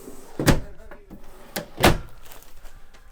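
Top-hinged upper cabinet doors in the bedroom of a 2020 Thor Aria 4000 Class A diesel motorhome, giving a few close, solid thunks and knocks as they swing open and shut, with some talk in between.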